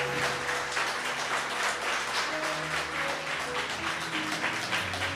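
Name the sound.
applause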